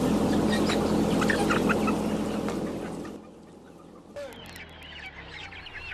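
Factory-farmed chickens cluck loudly and densely as a crowded flock for about three seconds, then the noise drops to a quieter scatter of distant clucks and calls.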